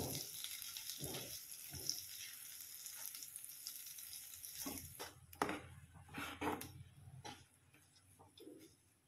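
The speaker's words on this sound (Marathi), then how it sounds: "हे आपण आता छान तुपामध्ये भाजून घेऊ।" Grated sweet potato roasting in ghee in a pan for a sweet dish, giving a soft, faint sizzle with occasional stirring scrapes, heard alone.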